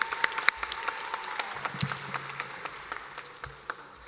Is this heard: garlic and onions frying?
no